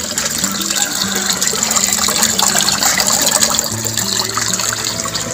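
Water gushes and churns continuously as a repaired Aquaspeed A4000 submersible pump runs, with a low mechanical hum beneath the steady splashing flow.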